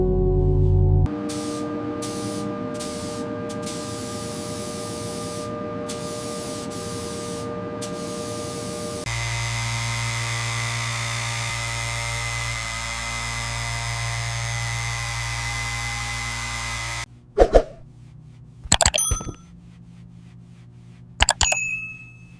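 Spray gun laying paint and clear coat onto a 1993 Toyota Supra MK4 in long steady hissing passes broken by short pauses, then a lower, fuller spray, ending with a few sharp bursts and brief quiet gaps.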